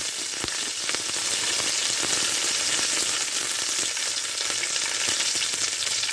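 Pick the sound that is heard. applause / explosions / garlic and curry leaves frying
garlic and curry leaves frying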